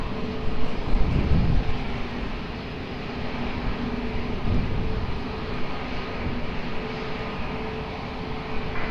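A jet airliner on approach to land on runway 20 at Lisbon Airport, heard as a steady, broad engine roar that lasts throughout and swells slightly near the start, with no voices over it.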